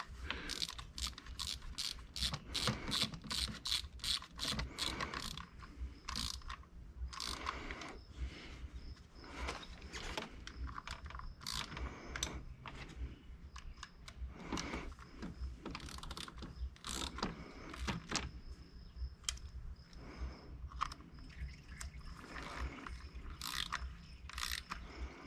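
Ratchet clicking in quick, steady bursts while tightening bolts on a Can-Am Spyder RT during a transmission and fuel filter service, close and fairly loud with brief pauses between runs.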